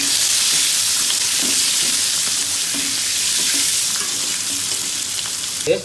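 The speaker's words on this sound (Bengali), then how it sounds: "ডিমগুলো এখন চুলায় ছেড়ে দিয়ে মিক্সার করে ভেজে নেব হালকা একটু" Steady, loud sizzling of quail eggs frying in a hot pan, with a few soft scraping knocks of stirring and no voices.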